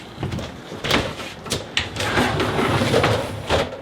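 A restroom door in a 32-foot Class A bunkhouse RV opening, with several short clicks and sliding knocks close by, followed by a steadier rustle.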